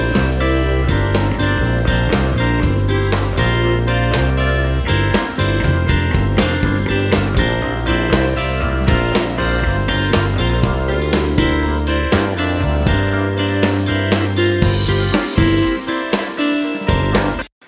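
Layered clean guitars through a Line 6 Helix with phaser chorus, big reverb and delay, blended over drums and bass in a full, loud mix that plays continuously and stops sharply at the end.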